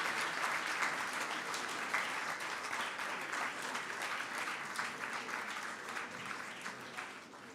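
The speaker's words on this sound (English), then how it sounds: "Another big round of applause, please, for Dr." A large audience at an annual lecture event gives a sustained round of applause for a speaker, dense steady clapping filling the hall throughout with no voices on top, easing slightly toward the end.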